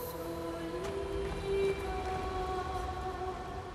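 Rain falls in the video game Clair Obscur: Expedition 33, a steady hiss of in-game rainfall spread evenly across the clip, with tonal music-like hums running underneath and no voices.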